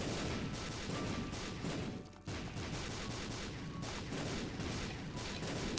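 Continuous rapid shooting at an enemy in The Binding of Isaac: Afterbirth, a steady stream of evenly spaced shots with a brief pause midway, running on at moderate loudness with no talk.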